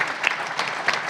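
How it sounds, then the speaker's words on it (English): A panel discussion audience gives a round of applause, a continuous, fairly loud crackle of many hands clapping together. "please give everyone who contributed a round of applause"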